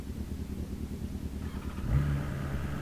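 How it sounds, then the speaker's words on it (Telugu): A superbike, a BMW S1000 RR or Kawasaki Ninja ZX-10R, idles with a low, steady engine rumble, then gives a brief rev that lifts the pitch and holds it, close by and without talk. "సౌండ్ వింటరా మన బైక్ది?"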